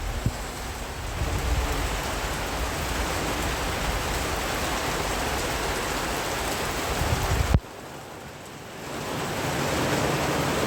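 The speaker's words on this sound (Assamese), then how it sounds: "একদম টান বৰষুণ পৰিলে" Heavy rain pours down in a dense, loud, steady hiss that drops away briefly after a sharp knock, then builds back up again.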